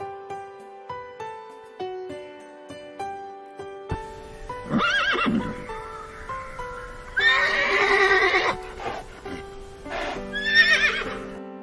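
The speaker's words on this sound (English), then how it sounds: "Here we go. Horse." A few soft hoof-like taps, then a horse neighs several times in loud, shrill whinnies that trail off, close by.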